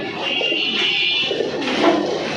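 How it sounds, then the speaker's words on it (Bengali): Soft, rhythmic cooing of a Pakistani pigeon, close and steady across the short stretch, with a slight bird-call rise near the end. "এই যে দেখুন আরেকটা পাকিস্তানি কবুতর"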